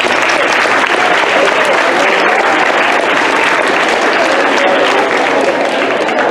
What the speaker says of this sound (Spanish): vamos a darles un aplauso a nuestros queridos invitados